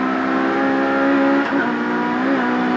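A 1990 British Touring Car Championship race car engine drones at high revs, dips briefly as it downshifts into third gear, then climbs again, loud and close with no talk.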